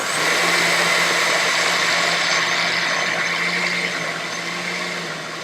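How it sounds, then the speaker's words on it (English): A blender runs continuously, blending 15 ounces of salsa into a vegan burrito mixture. The motor whir stays loud and steady, then eases off slightly near the end, with no talking. "I'm going to blend again."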